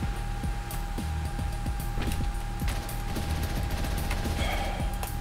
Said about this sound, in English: Human shields don't work all that well against shotguns.